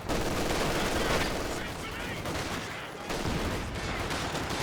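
Dense gunfire rattles in a Company of Heroes 2 multiplayer battle, with machine gun bursts and other shots packed into a continuous loud wall of noise, and faint voices mixed in underneath.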